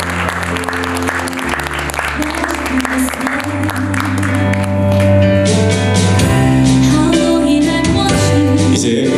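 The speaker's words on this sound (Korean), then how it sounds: "축하의 박수 부탁드리겠습니다" Wedding guests applaud after the declaration of marriage at a musical wedding ceremony, a steady wash of many hands clapping beneath loud, sustained background music.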